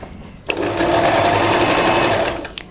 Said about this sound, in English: as I sew I'm going to stretch my ribbing but not the dress